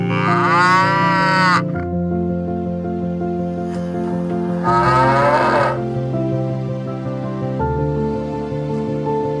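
Cattle moo in two long, loud calls, one early and one midway, over a continuous instrumental music bed, with no voices present.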